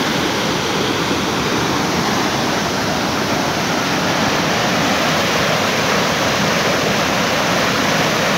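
Loud, steady roar of fast-rushing water overflowing from Phalina Dam, continuous and broadband with no pauses, like a torrent pouring through a spillway.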